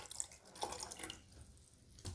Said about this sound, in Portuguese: Vou colocar 650 ml de água.